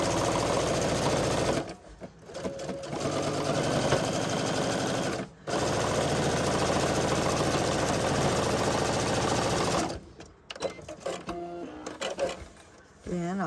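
Sewing machine stitching a quilt, running in long loud steady bursts of rapid mechanical chatter, stopping briefly twice and then giving way to short stop-start stitches and handling noises near the end.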